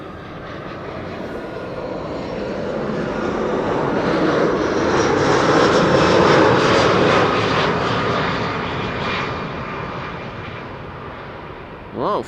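A Freebird Europe airliner passes the spotting position, its jet noise building gradually to a loud peak midway before easing off, with a brief sharp noise at the very end.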